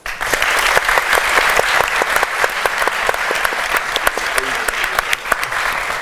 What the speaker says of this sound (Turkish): TUSAŞ'a da bir alkış alırım.